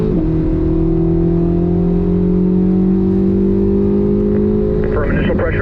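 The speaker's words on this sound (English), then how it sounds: "Squeeze that throttle down." A Corvette engine pulls hard on a race track, a loud steady drone rising gradually in pitch through the gear, then shifting near the end with a brief change in tone.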